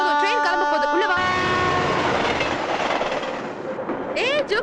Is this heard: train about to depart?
yes